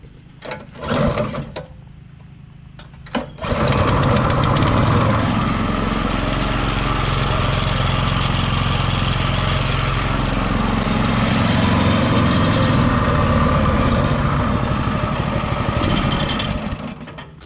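A locked-up mud motor boat engine, after cleaning, pulled over a couple of times and then started, settling into a loud, steady, rattling mechanical drone that holds close and constant for over ten seconds.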